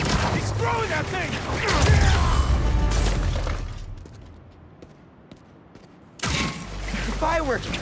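Fireworks bursting in the Spider-Man 2 video game, a dense run of loud crackling pops and bangs amid game effects and voices, dropping to a quieter stretch before another burst of explosions.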